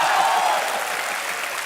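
A studio audience claps steadily on a comedy talk show, a dense, even wash of applause that eases slightly toward the end.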